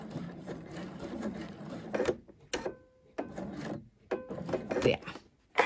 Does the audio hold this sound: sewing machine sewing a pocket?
yes